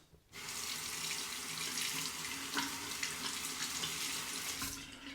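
Tap water runs while a shaving brush is rinsed after lathering, a sudden start followed by a steady, close splashing stream that continues to the end, without talking.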